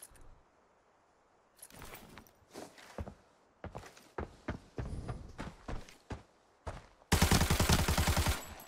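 Gunfire and footsteps in the shooter game Arena Breakout: scattered thuds and steps, then a loud rapid burst of automatic fire near the end.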